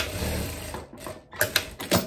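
An interlock serger stitches a seam on a long viscose dress, its motor whirring in short runs that stop and restart, with a few sharp clicks toward the end.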